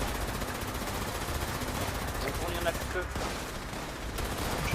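Rapid, dense automatic gunfire fills a military video game firefight, continuous and loud, with voices calling out over the shooting.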